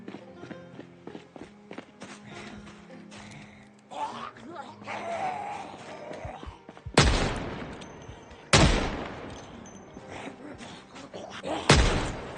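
A gun fires in Project Zomboid Build 42, giving three loud, sharp shots a few seconds apart. Quieter shuffling footsteps and movement come before them, and each shot has a short decaying tail.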